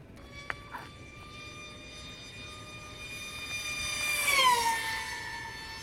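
A Multiplex Funjet Ultra 2 RC jet, upgraded for high-speed runs, screams past with a rising then falling high-pitched whine that swells loudest near the end, a steady tone sliding down as it passes close.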